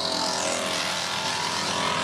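Race cars rumble into the pits at Virginia International Raceway during a Continental Tire Challenge event, their engines a loud, continuous drone over about two seconds.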